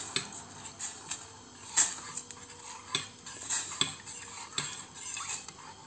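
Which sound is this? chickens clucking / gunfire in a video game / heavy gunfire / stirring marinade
stirring marinade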